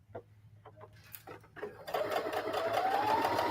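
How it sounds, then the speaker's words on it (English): Sewing machine stitching patchwork seams from scraps and old blue jeans, with a few soft taps and clicks first, then a steady, close whirring run of stitching that continues to the end. "And back stitch at the end."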